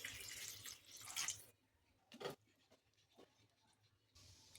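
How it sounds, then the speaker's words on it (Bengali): Water poured into a pot of chicken and vegetable stew, a splashing broadband pour for about a second and a half near the start, followed by quieter kitchen clatter and a brief clink. "এবার পরিমাণ মতো জল দিয়ে দেবো"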